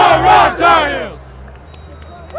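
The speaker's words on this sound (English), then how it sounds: "a cheer for the opposition at the end of the game from head coach Roy Simmons and the Syracuse Orangemen" Lacrosse players from the 1985 Syracuse Orangemen shout a loud group cheer for the opposing North Carolina team at game end, a burst of massed voices lasting about a second before fading into crowd hubbub.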